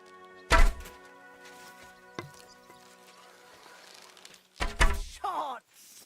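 Arrows strike a target in a medieval-style video game archery scene, giving two solid, close thunks a few seconds apart. A lighter tap falls between them and a brief clattering rustle follows the second hit.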